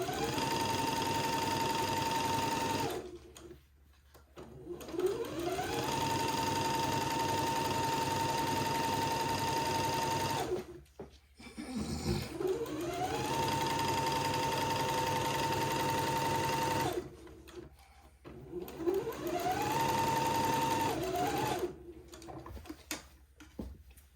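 A sewing machine stitches a seam on a Becca daygown in three steady runs, a close whirring hum with rhythmic needle ticking, each run speeding up, holding, then stopping, with short quiet pauses between.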